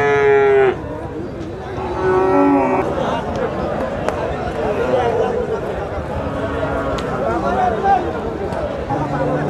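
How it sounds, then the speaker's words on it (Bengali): A Sahiwal bull calf moos loudly at the Basunia cattle market, one long low call at the start and another shortly after, over a busy backdrop of crowd chatter and voices. "খুব সুন্দর মানসম্মত একটি সাইওয়াল সার বাছুর।"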